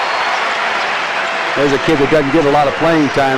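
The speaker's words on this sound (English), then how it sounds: "the crowd's giving him a nice round of applause" A crowd at a college basketball game applauds in a steady wash of clapping, heard under a commentator who speaks throughout.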